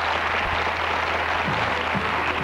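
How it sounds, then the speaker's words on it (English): Applause from a TV studio audience, a dense, loud and steady clapping for the whole short stretch. "I think we should give them all a round of applause"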